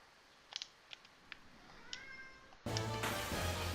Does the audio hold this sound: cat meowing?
yes